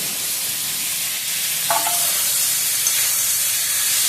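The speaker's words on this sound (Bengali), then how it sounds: "ডিমটা দেখো কেমন লাল লাল ভাজা হয়েছে" Eggs sizzle steadily in a hot pan, a continuous bright hiss with a short clink partway through and no talking.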